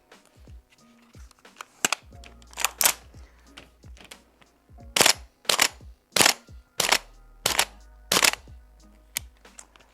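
A Guns Modify gas blowback airsoft rifle fires in cold winter conditions, a series of sharp separate pops with short gaps, some shots sounding weak, with clicks and handling noise in between.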